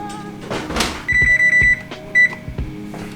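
An oven gives a few short electronic beeps amid kitchen clatter as a tray of vegan chicken parmesan goes inside.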